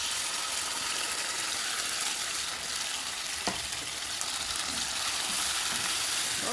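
Ingredients for jerk chicken pasta stir-frying in a pan, a loud, dense, unbroken sizzle close up, with an occasional clack of a utensil against the pan and no talking.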